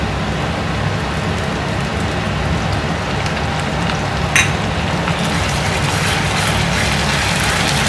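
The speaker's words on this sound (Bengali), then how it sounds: "আদা রসুনটা দিয়ে একটু ভালো করে ভেজে নেব" Onion, ginger and garlic frying in a pan make a steady, dense sizzle and crackle, close and continuous, with a brief sharper clatter partway through.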